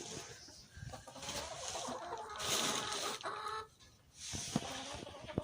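Lavender chickens on a homestead clucking in short bursts and murmurs, fairly close, with some broadband rustling and scraping around them and no talk over the sound.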